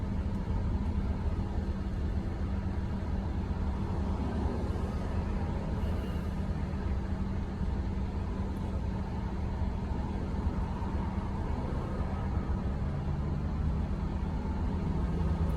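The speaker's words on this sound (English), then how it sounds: "Traffic on a Saturday." Saturday street traffic rolls past as a steady, broadband roar and rumble of passing cars, moderately loud and continuous with no voices over it.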